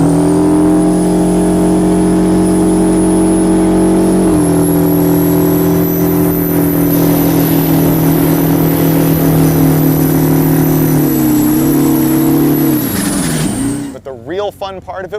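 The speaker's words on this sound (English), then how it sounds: "taking the giant semi-truck and doing that big donut at the end, making smoke everywhere" A giant semi-truck with a 727-cubic-inch engine drones loud and close at sustained revs with steady tonal exhaust, pitch dipping near the end before breaking into rough, uneven bursts as it spins a smoky donut.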